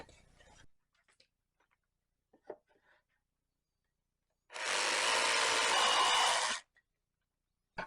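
A power saw cuts a wooden front panel for a birdhouse, sounding as one loud, close burst of about two seconds after a few faint knocks and handling sounds.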